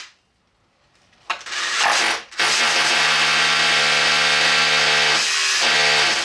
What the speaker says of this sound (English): make sure you get the right size drill bit for your plugs and drill your holes